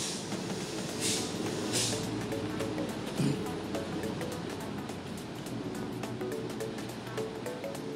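Waves at Kali Rante beach in Manokwari wash in as a steady broadband roar, with a few brighter bursts of surf near the start. No voices are heard over the sea.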